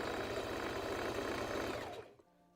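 A sewing machine stitches a band onto a Valentine's Day dress, its steady close whir running for about two seconds before winding down and stopping.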